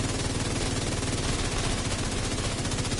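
Rapid automatic gunfire from a weapon fired like an LMG in a video game, a continuous fast stream of shots held at even loudness across three seconds with no talk over it.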